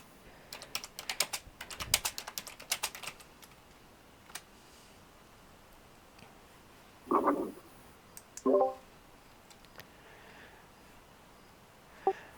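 Computer keyboard typing in a quiet room: a burst of rapid clicking keystrokes early on, then scattered single taps and a couple of short louder clacks, fairly faint and close.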